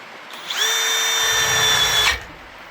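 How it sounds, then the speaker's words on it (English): A power drill bores through a car hub knuckle during a GSR hub rebuild for a right-hand-drive Honda del Sol. The whine is loud and close, holds steady for about a second and a half, then cuts off, with no talk over it. "I actually like drilling these through the back better, but the front's okay, I reckon."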